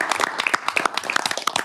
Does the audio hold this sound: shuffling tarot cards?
no